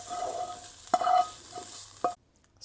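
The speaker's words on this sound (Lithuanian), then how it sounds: "Kai apkepinsime visas daržovės, sudedame jas į puodą, kuriame ir virsime mūsų sriubą." Sautéed vegetables for a Cornwall-style Padstow seafood chowder are stirred in the soup pot. A quiet low sizzle runs under two sharp utensil scrapes against the pot, and then everything cuts to near silence.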